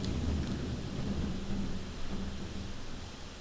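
Heavy rain pours steadily while a deep rumble of thunder rolls underneath throughout, dense and close with no talking.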